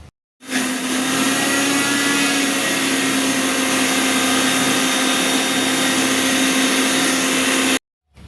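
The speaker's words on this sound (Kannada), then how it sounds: "ಹಸಿಮೆಣ್ಸಿಕಾಯಿ, ಪುದೀನ, ಕೊತ್ತಂಬರಿ ಸೊಪ್ಪು, ಕರಿಬೇವು ಇವು 4 ಮಾತ್ರ ನಾನು ರುಬ್ಕೊಂಬಂದ್ಬಿಡ್ತೀನಿ." A kitchen mixer grinder whirs loudly and steadily as it blends green chillies, mint, coriander and curry leaves, starting abruptly, holding an even high-pitched hum for about seven seconds, then stopping.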